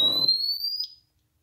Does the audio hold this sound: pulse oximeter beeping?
yes